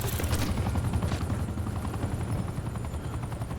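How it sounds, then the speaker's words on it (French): An attack helicopter in the shooter game Call of Duty: Black Ops 4, its rotor a loud continuous thrumming roar with a burst of sharper impacts near the start, no speech. "Hélicoptère d'attaque disponible"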